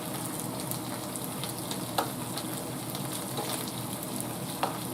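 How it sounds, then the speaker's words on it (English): Floured beef for a crockpot stew browns in a hot pan while being stirred, giving a steady, fairly quiet sizzle with a couple of soft scraping clicks over five seconds. "But continue stirring until flip over until all the red of the meat is done"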